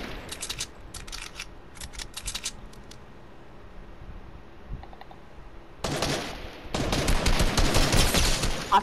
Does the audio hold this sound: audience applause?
no